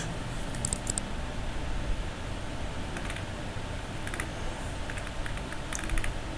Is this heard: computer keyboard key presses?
yes